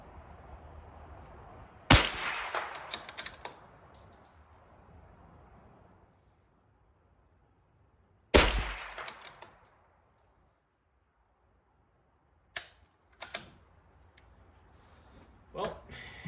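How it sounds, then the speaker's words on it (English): A Ruger Precision Rimfire .22LR rifle fires at an outdoor range, sharp shots spaced several seconds apart, each followed by a brief ringing decay, with quieter handling clicks between. "I just wanted to get some range footage for the video. I'm glad I did. This gun shoots awesome."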